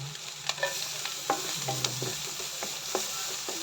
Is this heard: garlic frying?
yes